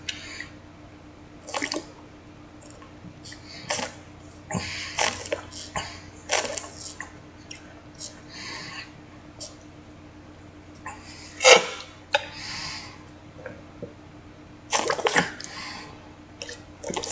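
Someone drinks Fiji bottled water, with faint, scattered gulps, drips and plastic bottle crinkles spread across a quiet stretch, including one sharper sound near the middle.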